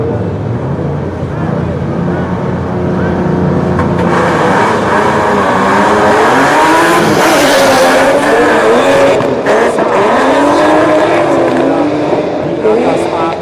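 A BMW drift car roars through a drift battle at Drift Kings Indonesia 2024, its engine wailing loudly and continuously as its tires squeal, with crowd and announcer noise blended underneath.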